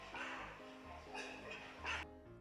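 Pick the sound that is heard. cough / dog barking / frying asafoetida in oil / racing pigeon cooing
dog barking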